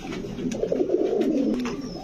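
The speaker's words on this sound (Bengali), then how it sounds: "দর্শক ব্লুবার মাক্সি এক জোড়া মুখী কবুতর।" A pair of blue-bar Mookee pigeons coo at a pigeon farm, a close, clear, throaty rolling coo that rises and falls in a continuous phrase across the stretch.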